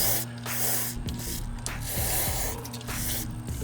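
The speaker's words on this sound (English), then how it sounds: "Spray in there." Aerosol cleaner sprayed into the throttle body of a third-generation Lexus GS, several close hissing bursts of spray separated by short pauses.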